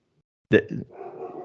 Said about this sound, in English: I got my dog barking and my 3-year-old yelling at the dog, like trying to get him to calm down